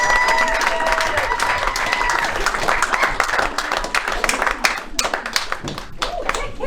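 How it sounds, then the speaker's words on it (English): Audience at a comedy show clapping after a stand-up set, a dense burst of applause that holds steady and then thins into scattered claps, with a few voices mixed in. "Guys, another round of applause for Jenna DeLuca."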